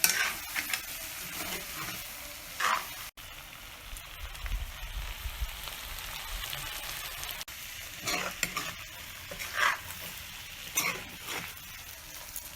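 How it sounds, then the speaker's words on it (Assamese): Goat meat with coriander powder and other spices frying in oil, village style over a wood fire, gives an uneven sizzle with repeated clattering stirs and scrapes in bursts throughout, with no talking. "তেলখিনি মই ইয়াতে এতিয়া অকণমান ভাজি আকৌ নমাই ল'ম"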